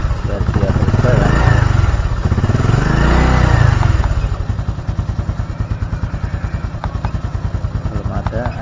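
A Honda Supra X 125 Fi motorcycle engine revs up and falls back twice, loud and close, then settles into a steady, rapidly pulsing idle while a person talks over it during a workshop service.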